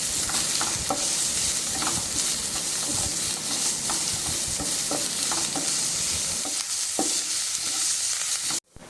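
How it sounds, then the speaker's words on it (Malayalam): Chopped onions sautéing and being stirred in a pan for chicken cutlets, a steady loud sizzle with repeated spoon scrapes throughout, then an abrupt stop at the end. "സവാള ഒന്ന് വാടി വരുന്നത് വരെ ഇളക്കി കൊടുക്കാം."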